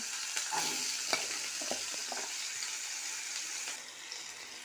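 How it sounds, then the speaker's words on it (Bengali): Cut potato pieces fry in a little oil, a soft, steady sizzle broken by occasional scraping stirs and light clinks, heard close with no talking. "তো আমি ঠিক এইভাবে আলুগুলো কেটে নিয়েছি, একটু তেলে আগে ভেজে নেব।"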